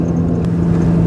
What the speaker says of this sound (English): So no turbocharger, no intercooler, just a simple engine. Sounds a bit truckish